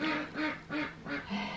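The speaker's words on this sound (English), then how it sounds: "got some noisy ducks out there." Ducks quack loudly and continuously in a rapid run of harsh calls near a greenhouse.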